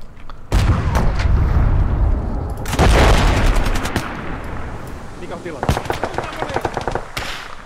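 A DP machine gun fires in Gates of Hell during a Finland campaign battle: loud, close, rapid bursts of automatic fire mixed with heavy booms and other gunshots, with someone speaking briefly between them.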